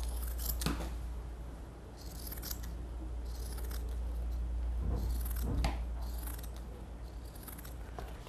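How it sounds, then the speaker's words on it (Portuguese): Scissors trim excess material while a jewelry box is being made, giving a few faint snips and crisp rustles over a steady low hum, close by and with no talking. "Com a tesoura, cortamos o excesso."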